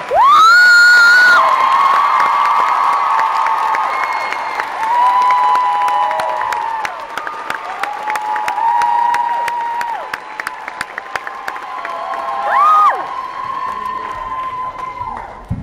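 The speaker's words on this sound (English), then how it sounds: "Please join me with a round of applause" A school crowd at a We Day event in Montreal erupts in applause, cheering and children's whoops, loud and sustained across the whole stretch, with sharp individual claps standing out and voices rising over the noise.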